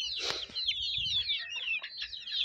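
Free-range desi chicks peep continuously in high, rapid chirps, with a few low hen clucks underneath, close by and fairly clear.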